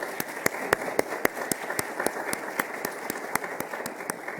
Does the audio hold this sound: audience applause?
yes